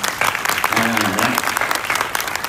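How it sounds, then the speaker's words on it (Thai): Applause from an audience at an indoor ceremony, a dense burst of clapping that holds steady across the short span, with a voice talking faintly underneath. "ก็ปรบมือให้เขาหน่อยครับ"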